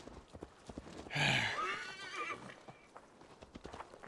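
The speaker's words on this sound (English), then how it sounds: "Come on, horse." In the video game Assassin's Creed Valhalla on PS5, a horse whinnies loudly over a steady background of hoofbeats clip-clopping in a quick rhythm.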